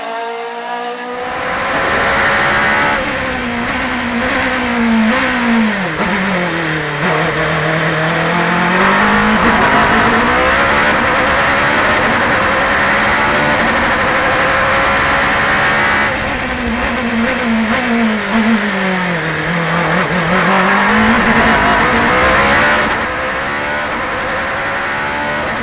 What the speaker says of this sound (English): So let's hop into the cockpit of a young Czech driver and local matador, Peter Trinka, to get a first impression of